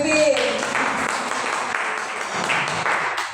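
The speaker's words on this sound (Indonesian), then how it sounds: "Tepuk tangan untuk Bu Pimpin" An audience at a junior high school event applauds, a steady wash of clapping that holds at an even, fairly loud level throughout.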